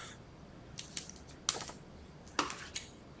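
Foam tape backing being torn and peeled off while assembling a Stampin' Up! teepee pyramid card, heard as a few quiet, sharp crackling rips and taps close by with no talk.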